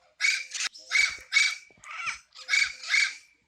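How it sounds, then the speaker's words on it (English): Birds at a bird zoo call loudly while being fed, a series of harsh squawking cries in close, repeated bursts with short gaps. "I'm feeding the birds."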